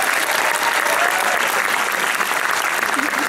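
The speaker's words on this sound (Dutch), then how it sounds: "een extra applaus voor je moeder ook gevraagd" Steady, dense applause from a crowd at the Miss Noord Holland 2012 beauty pageant fills the whole moment, close and continuous with no break.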